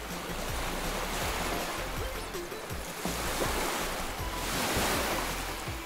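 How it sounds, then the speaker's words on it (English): Water waves wash in a continuous, fairly loud rushing roar with some wind-like noise and no talking. "Oh, there's some more water waves though."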